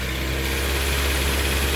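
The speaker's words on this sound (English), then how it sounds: "So I have someone revving the engine" A car engine runs loud and close with a steady low rumble and vibration, held at raised revs throughout without clear surges.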